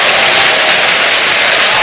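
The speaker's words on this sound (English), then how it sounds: "That gets a nice applause from Roy Williams." Loud, dense crowd applause and cheering fill a college basketball arena during a North Carolina game, holding at a steady roar across the whole stretch.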